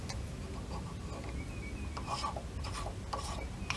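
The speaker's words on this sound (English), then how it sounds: "tap the inside about a 1/2 inch. It's brass, so it taps extremely easy." Quiet, steady rasping scrape of a 3/8 tap cutting threads inside a brass outboard bearing carrier from an OMC Cobra drive, continuous with a few brighter scratchy bursts and no talking.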